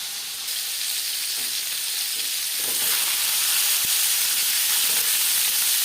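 Steady, close frying sizzle as pieces of bhola fish fry in a pan, crackling and hissing throughout, growing slightly louder midway, with no talking.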